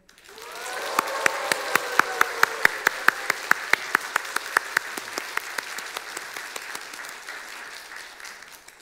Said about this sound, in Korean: 문창용 군, 이 박수를 기억하세요